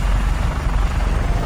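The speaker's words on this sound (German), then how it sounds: "Di Ravello in seinem goldenen Kopter und Michi ebenfalls." Golden helicopter in the video game Just Cause 3, a steady loud rotor drone with deep rhythmic thumping that holds constant throughout.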